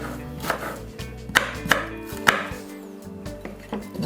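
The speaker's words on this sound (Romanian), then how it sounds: "un pic trebuie tăiată ceapa" Onion being chopped with a knife on a cutting board into large rings, a handful of sharp, near knife strikes at an irregular pace with no voices over them.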